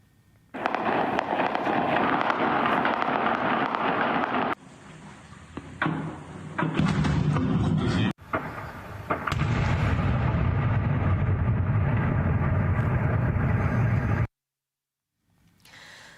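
Heavy, continuous blasts and rapid gunfire crackle in loud, abruptly cut bursts in occupied Sevastopol, ending in a sudden silence.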